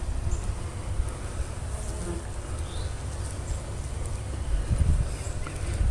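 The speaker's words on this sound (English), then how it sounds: "You can see it's covered with bees also" Honey bees hum in a dense, steady drone over a hive frame during an outdoor hive inspection, the buzzing close and continuous with no one talking.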